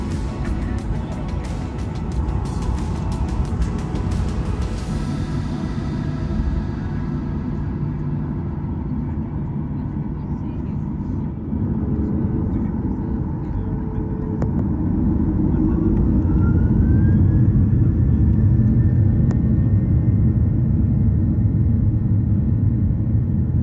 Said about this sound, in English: we taxied our way out to the runway for takeoff